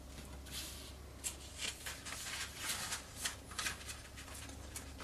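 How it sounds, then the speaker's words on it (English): Folded origami paper for an owl is pressed firmly along its crease, giving a series of quiet, papery rustling swipes and rubs at an uneven rhythm, close by. "Press good on the fold."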